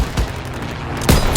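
Heavy bursts of gunfire in the World War II shooter Call of Duty WW2 boom out in two strong blasts within a dense, rumbling battle din, with no voices.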